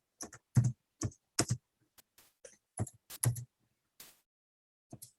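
Keys clacking on a computer keyboard while entering text into an Excel spreadsheet cell, short bursts of close, crisp taps separated by brief pauses, with no talking.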